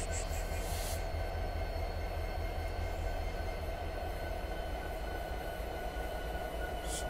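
In the train simulation game Train Sim 2017, locomotive engines spool up into a continuous deep diesel drone with a steady whine on top, loud and constant, with brief hissing bursts at the start and end.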